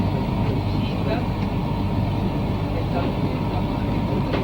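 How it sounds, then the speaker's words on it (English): A bus engine rumbles low and steady as the bus pulls out of a station in Spain, a continuous close drone with faint higher rattles and no break. "the bus is leaving the station."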